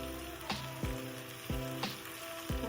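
Capsicum hits a hot pan for chili garlic noodles, frying in a constant sizzle while the spatula strikes the pan in regular clanking tosses about every half second to second.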